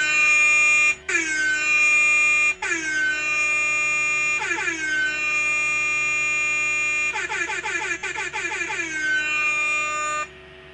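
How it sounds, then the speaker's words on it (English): An air horn sound effect blasts in a series of loud, harsh bursts, some long and some short, with a rapid stuttering run near the end. "let's just give him an air horn"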